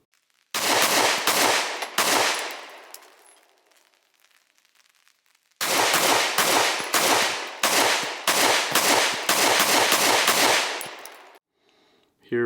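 Rapid gunshots from a ported Hellcat Pro pistol at an outdoor shooting range: a short string of loud, sharp reports, a pause, then a longer fast string of closely spaced shots, with no talking.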